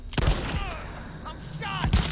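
Gunfire from the video game Days Gone, with loud sharp shots near 0.2 seconds and again near 1.9 seconds and scattered reports between them, while a voice shouts over the shooting.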